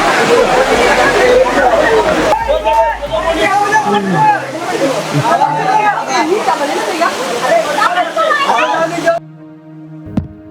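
Mayabi Jhorna waterfall at Jaflong splashes and rushes continuously while a busy crowd chatters and calls over it, the water and voices both loud and close.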